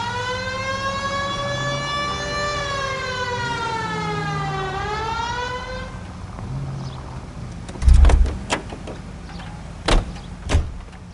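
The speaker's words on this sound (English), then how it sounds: "Turn on the siren and pull her over." A police car siren in the video game L.A. Noire wails loudly with a rising and falling tone for several seconds, then cuts out, followed by a few sharp thuds like car doors.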